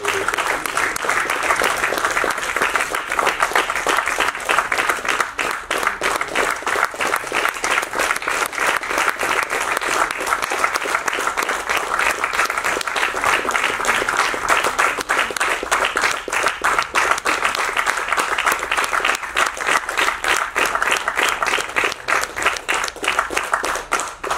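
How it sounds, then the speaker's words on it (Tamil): Sustained audience applause fills a Tamil award ceremony honouring people doing social welfare work, dense steady clapping from a large crowd that stays loud and even throughout with no break. "உங்கள் கரகோஷங்களுக்கு நன்றி."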